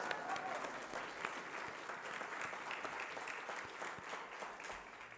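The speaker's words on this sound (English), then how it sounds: "Round of applause for Catherine" A book-launch audience applauds novelist Catherine Chidgey at a university event, a steady, fairly distant wash of many hands clapping at an even level throughout.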